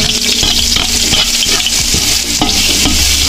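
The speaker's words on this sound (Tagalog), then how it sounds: "Panggisa natin sa bawang sibuyas. Ayan guys, lagay natin ating bawang." Garlic hits hot cooking oil in a pan, sautéed for menudo, with a loud, dense crackling sizzle filling the whole stretch and quick scraping knocks of a spatula stirring close by.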